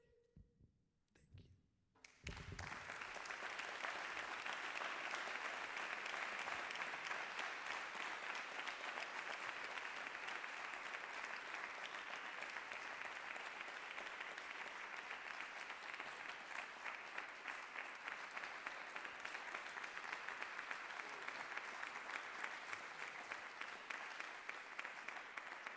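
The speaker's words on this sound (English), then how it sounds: "One more round of applause for Ms. Tutu." Sustained audience applause at a spoken word poetry night fills the room after a poem, starting abruptly and holding steady and dense for over twenty seconds.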